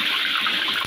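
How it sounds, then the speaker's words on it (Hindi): Cooking oil poured into a frying pan while preparing Chinese-style chicken, a steady close liquid gush and sizzle-like hiss running continuously through the short moment, with no talk. "ये हम फ्राई में ऑयल डाल रहे हैं"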